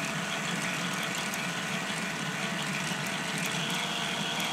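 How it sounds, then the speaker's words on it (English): K'NEX toy motor turning shafts and a differential, a steady faint whirring hum with constant mechanical buzz throughout, no talking. "this motor over here, or the shaft over here, is being forced to turn slower"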